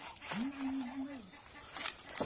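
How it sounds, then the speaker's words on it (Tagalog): A single drawn-out nasal duck call, fairly faint, rising out of quiet outdoor farm background noise. "Marami tayong pato."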